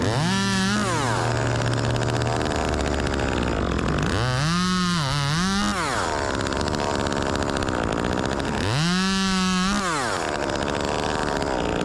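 Chainsaw revving hard and cutting into a massive western red cedar during a tree removal, with repeated rising and falling engine pitch between cuts, loud and continuous, no voices audible.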